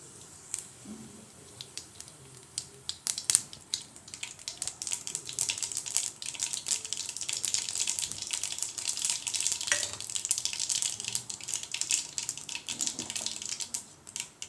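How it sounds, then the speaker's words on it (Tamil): Mustard seeds and cumin crackle and sizzle in hot oil for idli upma, a steady dense frying hiss with scattered sharp pops, close and moderately loud, no voices. "எண்ணெய் ஊற்றி எண்ணெய் காஞ்சதும் அதில் கடுகும் ஜீரகத்தையும் போடலாம்"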